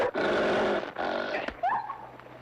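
A dog growls in a rough, snarling burst, two long throaty rumbles close up, followed by a whining yelp-like cry in an old western drama scene.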